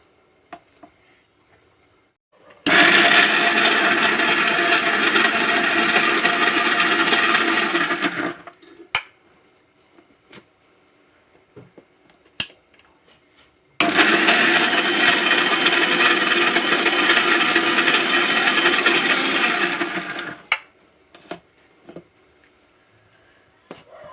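A mixer grinder whirs loudly in two bursts of about six seconds each, blending ivy gourd chutney, separated by a quiet pause with faint clicks and handling noises.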